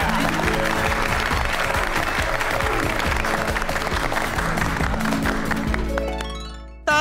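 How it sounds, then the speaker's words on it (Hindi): An audience claps loudly and steadily on a comedy show stage, a dense wash of applause with music running underneath that fades out near the end. "बबीता जी के लिए जोरदार तालियां।"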